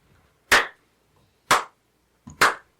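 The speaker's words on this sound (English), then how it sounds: "got a slow clap from the Riddler." Three slow, separate hand claps ring out about a second apart, sharp and fairly close, with near silence between them.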